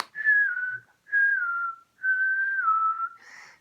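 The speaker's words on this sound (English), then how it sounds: "I'd whistle." A person whistles to call a cat indoors, giving three clear, sustained whistled notes, each sliding slightly downward, close and steady with short pauses between.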